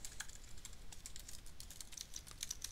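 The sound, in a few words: typing on a computer keyboard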